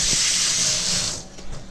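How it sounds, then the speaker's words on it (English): Kitchen tap water running hard into a sink while hands are rinsed during chili preparation, a loud hissing gush that cuts off near the end. "good idea always just to rinse your hands"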